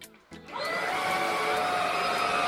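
A Xiaomi 1C cordless vacuum cleaner switches on after a brief click and spins up into a steady, loud, high-pitched whine that holds close by without any speech.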